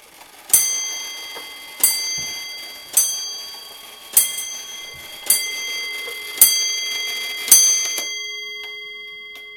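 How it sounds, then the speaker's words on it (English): A rare Black Forest carillon clock strikes the hour with seven evenly spaced bright chimes about a second apart, each ringing and decaying, followed by a softer lingering bell tone, close and clear with no talk. "It obviously strikes the hour on the hour."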